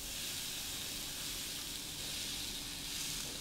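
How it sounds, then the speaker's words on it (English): Food sears on the hot sear plate of an air fryer, giving a continuous quiet sizzling hiss with no voices. "You hear that sear? Isn't that beautiful?"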